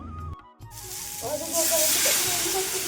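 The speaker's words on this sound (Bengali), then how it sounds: "তো মশলা কষানো হয়ে গেল" Spices fry in a pan, a loud broad sizzle and hiss swelling after a brief pause, following a moment of low clatter and faint voice.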